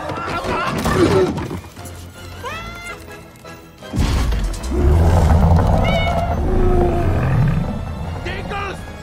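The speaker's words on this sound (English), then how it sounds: "Oh, it's a cat!" Cartoon cat meowing in a Hotel Transylvania animated short, with rising and falling yowls mixed among excited shouting voices and a sudden louder commotion partway through.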